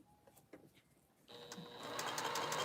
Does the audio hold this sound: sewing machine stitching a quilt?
yes